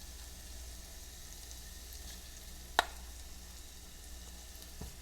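Red pepper flakes sizzle in hot oil alongside garlic and ginger, a faint, steady crackling hiss with one sharp clatter midway and a soft knock near the end.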